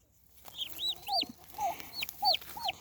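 Day-old baby turkey chicks in a rural farm setting give repeated high, thin peeps. The chirps come in quick overlapping bursts, fairly close but quiet, over faint background noise.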